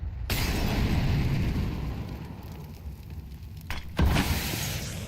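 A Molotov and a flashbang thrown in a Counter-Strike match, a sustained roaring burn of fire followed by a sharp burst near the end, heard without any voices.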